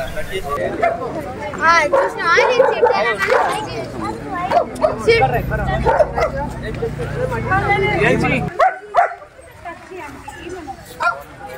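Several dogs bark, yip and whimper close by at a dog park on Necklace Road in Hyderabad, amid a babble of people talking, with a low rumble underneath before the noise drops off.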